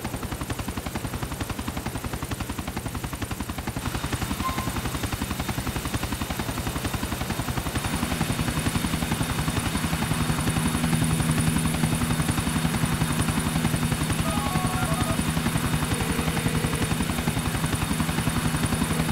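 Helicopter in the GTA IV video game, with a steady, loud rotor chop throbbing continuously throughout and an engine drone underneath, with no talk.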